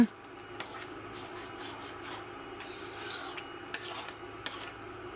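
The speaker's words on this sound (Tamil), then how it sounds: "நல்லா கிண்டி விட்டுக்குங்க" A spoon scraping and stirring thick Bombay halwa in a pan, a close, continuous rasping with small repeated strokes and occasional clinks, no voices.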